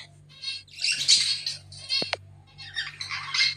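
Pet budgerigars and other small caged birds squawking and chirping up close, bursts of harsh chatter and sharp tweets in quick succession, with a low steady hum underneath.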